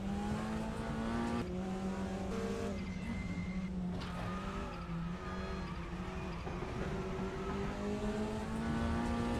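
WTCR touring race cars at Silverstone scream past at high revs. Engine notes rise and drop through gear changes, loud and continuous, with several cars close together.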